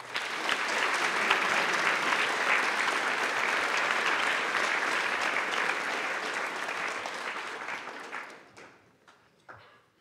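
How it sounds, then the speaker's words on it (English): An audience at a hackathon opening ceremony applauds steadily and loudly for the sponsors, a dense, sustained wash of clapping that fades out over the last couple of seconds. "we'd like to have a round of applause for the sponsors who make IC Hack the best hackathon in the UK"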